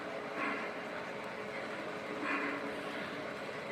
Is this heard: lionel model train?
yes